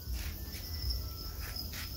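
Thai yellow crickets chirp continuously at a cricket farm in Cu Chi, Vietnam, a dense steady trill with bright repeated pulses filling the scene, close and moderately loud over a low background rumble, with no voices.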